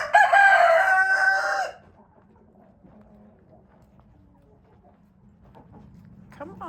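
A flock of backyard chickens clucks loudly and busily up close for about two seconds, then falls quiet with only faint low murmurs and soft scattered sounds until a brief rise at the end.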